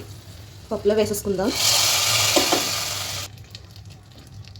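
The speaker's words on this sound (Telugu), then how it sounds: "పోపు అయితే వేగిపోయిందండి" Hot oil tempering for a tamarind-leaf dal sizzles in a bright, hissing burst lasting under two seconds, heard between and under a woman's speech in a home kitchen.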